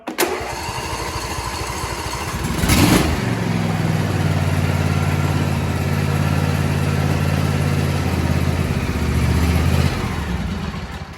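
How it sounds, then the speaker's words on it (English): A John Deere E170 lawn tractor engine on full choke cranks and catches with a loud burst, then settles into a steady, even low idle that runs up close and alone for several seconds. "As soon as it starts, I'm going to bring it down to an idle."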